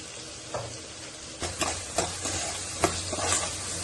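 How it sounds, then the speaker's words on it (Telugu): Onions and green chilli pieces fry in a pan for a restaurant-style chicken fry, a steady close sizzle broken by several sharp stirring scrapes and clinks, with no voices. "ఉల్లిపాయలు అలాగే పచ్చిమిరపకాయ ముక్కలు వేసేసుకోవాలి."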